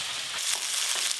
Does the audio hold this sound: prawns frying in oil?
yes